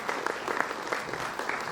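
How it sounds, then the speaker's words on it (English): An audience at an HR and EHS conference in Vadodara applauds a guest speaker, steady clapping from many hands sustained evenly through the moment. "So let's give a huge round of applause"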